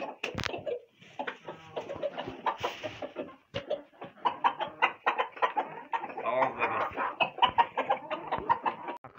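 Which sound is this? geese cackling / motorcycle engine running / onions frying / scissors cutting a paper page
geese cackling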